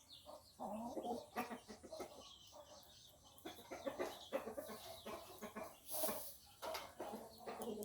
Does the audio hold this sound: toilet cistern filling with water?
no